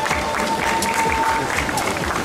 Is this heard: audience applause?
yes